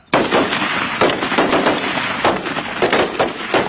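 Soldiers fire rifles at their own targets during shooting training, a loud, steady stream of overlapping shots and reports echoing in the open, close by and continuous.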